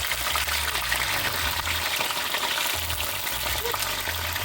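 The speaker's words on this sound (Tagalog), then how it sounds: "magpiprito muna ako nito" Food fries in a pan for a quick breakfast, a dense, steady sizzle and crackle of hot oil filling the whole stretch at close range, with a low hum beneath it.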